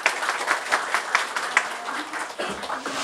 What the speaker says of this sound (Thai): ขอเสียงปรบมือดังๆอีกครั้ง